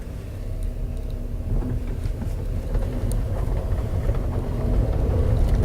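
VW Polo Sedan with a worn, knocking suspension and a loose, light steering wheel driving over stones: a steady low rumble of road and cabin noise, thick with dense irregular thumps and clatters that grow slightly louder toward the end.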